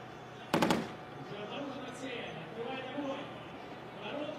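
A tank-mounted 12.7mm heavy machine gun fires one short, sharp volley during an Army Games 2022 tank competition on a firing range. The burst is distant and brief, then a steady rumble of wind and engine noise follows.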